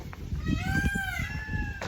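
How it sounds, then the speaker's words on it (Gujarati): A peacock calls in the open near Uparkot, Junagadh, one drawn-out wailing cry rising and holding over a rumbling outdoor background at moderate distance. "મોરલા બોલે છે."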